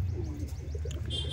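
Madrasi pigeons kept at a home coo in low, soft repeated murmurs, close by, with a few faint higher chirps near the end.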